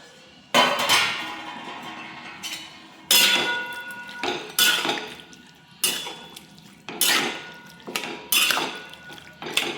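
Chicken with turmeric and salt tossed into a kadhai and stirred, with a series of loud metallic clangs and scrapes of the spatula against the pan, roughly every second, close and sharp, with no talking.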